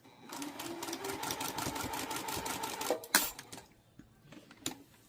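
A sewing machine runs close up in a fast, steady stitching burst while stitching a scrappy quilted pot holder, then stops, followed by a few clicks and handling knocks.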